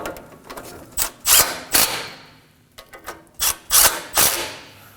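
A hand ratchet tightens the caliper bracket bolts on a 2014–2020 Acura MDX's front brakes, making close, sharp bursts of rapid clicking separated by short pauses, with no talk.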